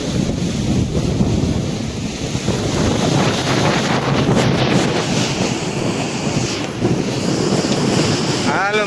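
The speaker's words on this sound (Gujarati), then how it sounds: "આવા મોડા ભાંગી રહ્યા છે." Sea waves surging and breaking on a beach shore, a steady loud wash of surf with heavy wind buffeting the microphone throughout, no voices.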